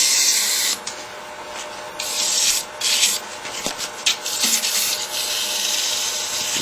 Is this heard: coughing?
no